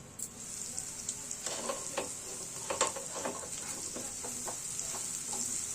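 Vegetables for vegetarian chow mein fry in a pan, a steady close sizzle with scattered crackles and a few stirring scrapes.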